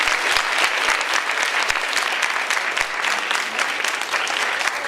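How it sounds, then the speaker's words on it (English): Audience applause at a school event, loud dense clapping from a crowd that holds steady throughout without a break. "You guys give them a round of applause."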